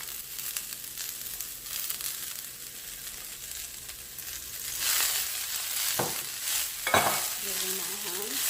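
Cabbage frying and being stirred in a hot pan for Jamaican fried cabbage, a steady close sizzle with scraping stir strokes and a few sharper clatters near the end.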